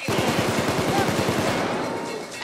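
Rapid automatic gunfire from a weapon in the video game PayDay 2, a fast loud burst of evenly spaced shots that runs through the first second and then blurs into a continuous roar of further firing.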